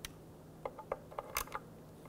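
A ratchet snugs down the ignition coil bolts on a 2005-2010 Chevrolet Cobalt engine, giving a few faint, close, irregular clicks over a quiet background.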